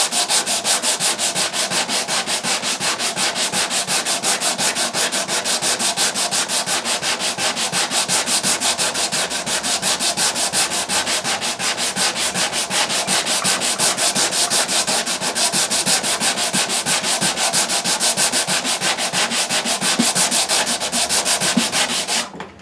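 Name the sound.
hand sanding a guitar neck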